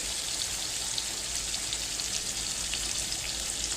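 Syrian shawarma meat fries in a home kitchen pan, a continuous close crackling sizzle at an even level with no speech.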